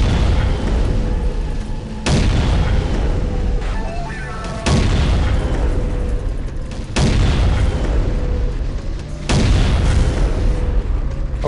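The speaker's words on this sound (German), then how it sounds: "Ich weiß nicht, aber diese Kanonen hier sind verdammt stark hier." Cannons fire in Unreal Tournament 2004, loud booming explosions repeating about every two to two and a half seconds, each followed by a long rumbling tail, with voices talking underneath.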